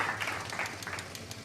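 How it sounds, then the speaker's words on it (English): A short burst of added applause track on a talk show, brisk crowd clapping at a steady, moderate level for a second and a half. "I do add applause track, so I'm going to applaud you there"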